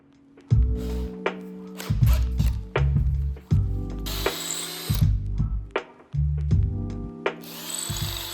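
A power drill whines in repeated bursts while boring into wood during a hand plane restoration, each run starting abruptly and stopping, with a loud, close motor hum and brief higher-pitched grinding as the bit cuts.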